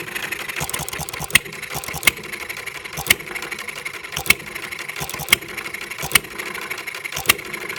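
A 1/3-scale Breisch "Hired Man" hit-and-miss engine runs nearby, a continuous rattling chug punctuated by sharp firing bangs roughly once a second.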